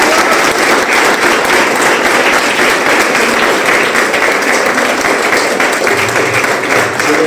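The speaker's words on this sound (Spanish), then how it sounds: "Un fuerte aplauso." Sustained applause from a congregation after a closing blessing at an ecumenical gathering, a dense, steady wash of clapping hands lasting throughout at full strength.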